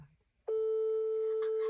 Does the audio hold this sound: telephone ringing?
yes